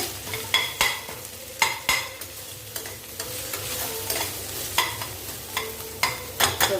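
Onions sautéed in a pan for a Kalyana Kadappa curry, stirred with repeated sharp scrapes of a spatula over a steady close sizzle, with no talking.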